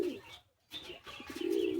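High flying pigeons in a loft in Bagnan, Howrah give soft, low coos in two short bursts separated by a brief pause, heard close and fairly quiet.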